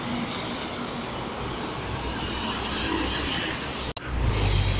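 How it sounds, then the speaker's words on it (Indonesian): An MTR train passes on the railway near the Wong Chuk Hang bridge in Hong Kong, a steady broad rumble and rushing hum heard from some distance, rising toward the end amid outdoor street ambience. "kereta MTR"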